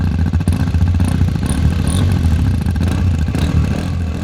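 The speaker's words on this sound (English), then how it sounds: "Mine sounds raw, punchier, more mechanical, almost more old school dirt bike type." A loud Hero Xpulse 210 dirt bike engine running nearby with a raw, punchy, clattering mechanical rumble that holds steady throughout.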